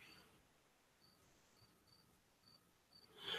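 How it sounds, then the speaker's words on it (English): A cricket chirps indoors in a quiet room, with short evenly spaced high-pitched chirps that are faint and a little distant against low background hiss, with no talk. "just me and that cricket that I'm not sure if you can hear"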